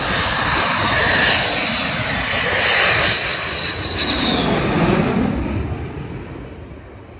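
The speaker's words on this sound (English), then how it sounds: "The stealthy J-20 has afterburners turned on." Loud, sustained roar of a Chengdu J-20 stealth fighter's jet engines with afterburners lit near its factory in Chengdu, China, swelling and shifting in pitch as the aircraft passes, then slowly fading, with no talking.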